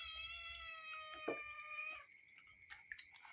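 A cat gives a long, drawn-out meow that holds steady before breaking off, then a few short, fainter mews follow amid quiet background clatter.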